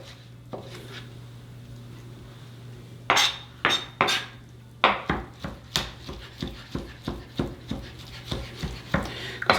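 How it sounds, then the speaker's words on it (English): Knife chopping salmon finely on a board, a rapid, steady run of close, crisp taps after a few scattered cuts, over a faint background hum. "we're going to chop that even down a little bit finer"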